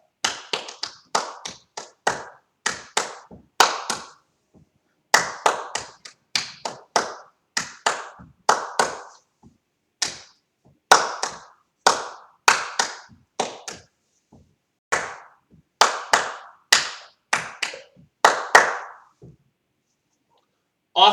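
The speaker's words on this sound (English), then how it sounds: "So you're just clapping and lip syncing the words" A fourth-grade music class claps hands together to the beat of Lil' Liza Jane, sharp close claps in rhythmic groups separated by short gaps and repeated steadily for about twenty seconds, with no singing.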